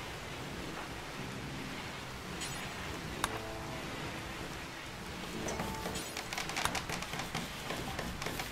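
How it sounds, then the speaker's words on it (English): Steady rain hiss in the colony-building game RimWorld fills the whole stretch at an even level, with faint tonal interface blips and clicks on top. "I wish this rain would hurry up and stop."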